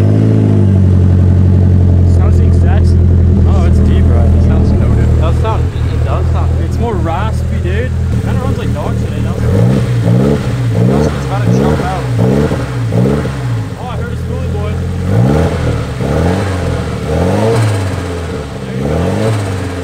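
Nissan 180SX engine starting up and revving on a highway roadside, a loud low rumble with repeated rising revs over the second half, with people talking over it.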